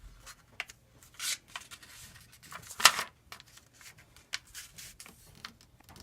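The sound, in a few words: paper being folded to make a paper airplane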